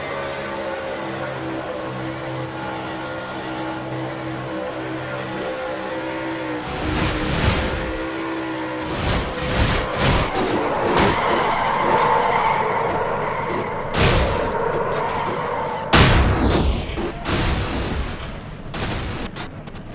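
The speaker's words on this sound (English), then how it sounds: "we also had an in-car camera showing the view of the crash as well" A stock car crash at Atlanta in a NASCAR-style racing video game, heard from the in-car view: a steady engine drone, then a run of loud, sharp impact bangs and scraping over several seconds, with no talking.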